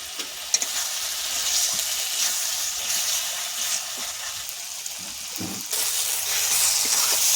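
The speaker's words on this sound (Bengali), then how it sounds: "ভালো করে মশলাটা কষিয়ে নেব।" Spice paste for a bhetki fish bone curry sizzles and fries in a pan, a steady close hiss with faint stirring scrapes that grows brighter and louder near the end.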